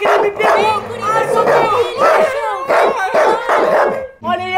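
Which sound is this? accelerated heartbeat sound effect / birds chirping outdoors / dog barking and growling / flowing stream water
dog barking and growling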